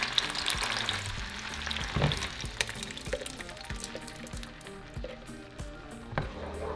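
Four cups of beans tipped into hot oil in a pan, a close steady sizzle and crackle of frying with some stirring and bubbling, no talking.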